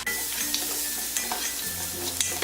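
A large chopped onion sautéing in a hot pan with cinnamon and cloves, giving a steady close sizzle with occasional stirring clicks and scrapes and no voices.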